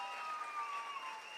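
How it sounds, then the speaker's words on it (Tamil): An audience at a Tamil cultural stage event with folk music claps for the band, a steady, dense wash of applause heard from a distance with no break. "நம்ம இசைக்குழுவினருக்கு நல்ல கைத்தட்டல் கொடுத்துடலாம்."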